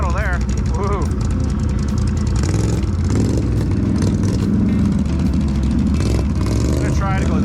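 Can-Am Renegade 1000 XMR ATV engine rumbling in low range on rocky trail, the throttle worked in uneven surges and revs over a steady idle, with riders talking over it.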